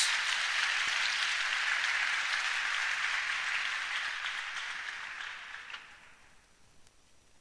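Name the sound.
congregation applauding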